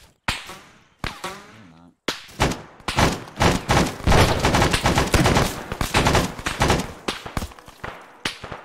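Rifle gunfire in the Arma video game: sharp isolated shots at first, then a long rapid burst of closely spaced cracks, loud and near, fading to a few last shots.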